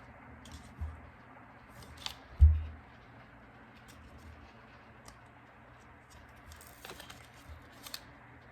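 Scissors snip tortoise-pattern foil for a tumbler craft, heard as a few faint, close cuts and crinkles with one louder thump, over quiet room hiss.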